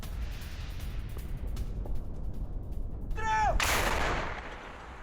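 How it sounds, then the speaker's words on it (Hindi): Artillery shelling on Ukrainian outposts in a war zone, heard as a loud rushing boom with a whistling edge about midway through, rising over a steady background roar and then fading. "इस वक्त की बड़ी खबर, ऑपरेशन जोन में रूस ने गोलाबारी की है। यूक्रेनी चौकियों पर आर्टिलरी हमले किए हैं।"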